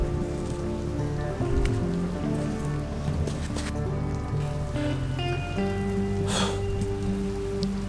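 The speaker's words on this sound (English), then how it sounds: "Now it's raining." Steady rain falls around a sheltered cliff cave at Tabbigai Gap in Kurnell, Australia, making a dense, continuous hiss and patter of drops on rock and surfaces, close and even throughout.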